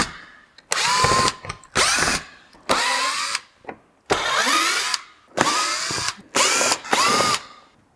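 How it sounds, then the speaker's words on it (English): A power drill backs out T25 Torx screws from the front bumper of a MK7.5 GTI in seven close, loud whirring bursts, each a second or so long, separated by short silences. "now we're going to remove these T25 Torx screws that hold this in place"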